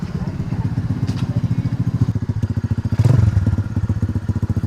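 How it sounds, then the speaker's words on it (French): An engine runs close by with a loud, steady low chugging pulse that keeps an even rhythm throughout and swells briefly near the end. "Merci d'avoir arrêté le moteur"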